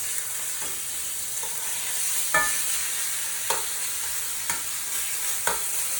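Lemon chicken sears steadily on an induction cooktop, a continuous bright sizzle with occasional pops and stirring clicks, close and alone.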